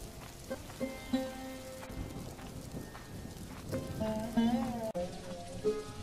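Steady rain falls in a cartoon scene during a cold-season flood, a soft continuous patter under music-like tones and brief vocal sounds.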